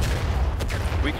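Musket fire in the video game War of Rights, a dense crackle of overlapping shots with a sharp report near the middle, loud and close over a low rumble, with a player's voice underneath.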